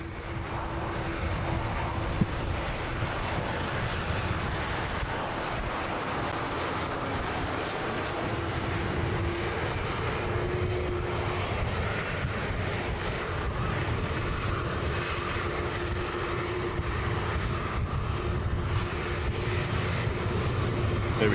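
Airliner departing Manchester Airport, a steady, distant jet engine roar with broadband rumble holding constant for over twenty seconds, no talking over it.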